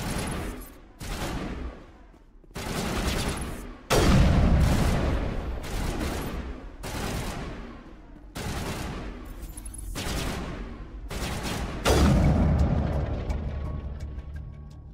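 Gunfire in the Mass Effect video game: several loud bursts of automatic fire, each separated by brief gaps, with heavy booming impacts and no voices over them.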